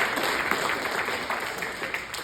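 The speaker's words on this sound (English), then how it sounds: "Let's clap for him" An audience at a Jewish academy claps for a student volunteer, a dense crackle of many hands at moderate volume lasting a couple of seconds, steady and without speech.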